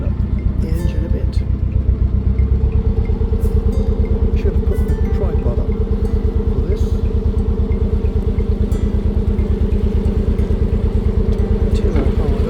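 Narrowboat diesel engine on the River Thames running with a steady rapid thump, loud and close, the revs rising slightly, while someone speaks briefly over it.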